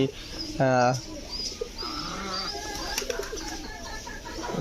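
Soft cooing of domestic pigeons on a pigeon farm amid steady background noise, with a short loud harmonic call standing out near the start and faint calls continuing.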